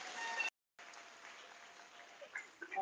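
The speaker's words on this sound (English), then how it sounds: "Give her another round of applause, please" Applause from a graduation audience at a high school ceremony, a faint steady wash of clapping broken by a brief silent gap, then resuming and thinning toward the end.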